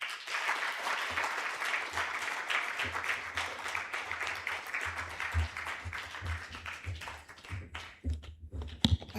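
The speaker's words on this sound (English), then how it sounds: "A bigger round of applause to our keynote speaker." Audience applause for a keynote speaker at a UN Women Uganda launch event: steady, dense clapping from a crowd that runs for several seconds, then thins into scattered claps near the end.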